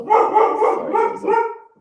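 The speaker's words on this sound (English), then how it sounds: "there's a dog barking" A dog barking nearby, five or six loud, tonal barks in a quick irregular burst, close and alone with no talk.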